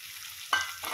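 Watermelon pieces tipped into a hot pan with roasted garlic and red chili powder, breaking into a sudden loud sizzle partway through, then scraped and stirred with a second swell of frying hiss.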